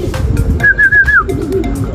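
Racing pigeons arriving at a loft after a training race from Sariaya, Quezon, give soft low coos, while a separate clear rising-and-falling whistle rings out loudly over a background rumble.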